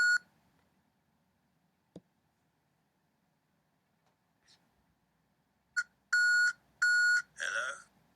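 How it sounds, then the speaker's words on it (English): An answering machine beep on a radio broadcast, with a few faint clicks before a run of loud electronic tones of the same pitch in short bursts, ending in a buzzy tone. "Leave a message after the beep."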